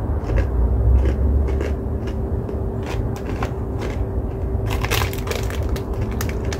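Mustard-flavoured pork crackling is crunched close to the mouth in a run of sharp, irregular crackles over a steady low background hum, growing denser toward the end.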